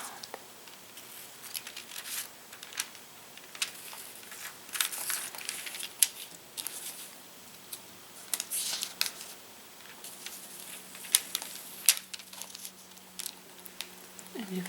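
Very thin Bible pages being handled and turned up close, producing soft, uneven crinkles and papery rustles in scattered bursts, quiet and intimate with no talking.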